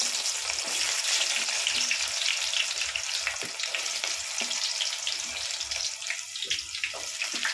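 Small onions and fenugreek seeds fry in hot oil in a pan, a loud continuous sizzle and crackle close by with faint clinks, no speech over it.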